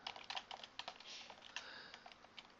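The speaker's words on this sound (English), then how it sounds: "I'll start with the active and I'll type in color" Quick, steady keystrokes on a computer keyboard as code is typed, a close, quiet run of light clicks with brief pauses and no voice.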